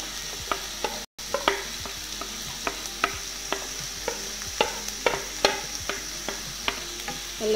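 Chopped onion, garlic and green chilli sizzle in hot oil with a steady frying hiss, while a utensil scrapes and stirs the pan in regular, distinct knocks; close and fairly quiet, with no talking.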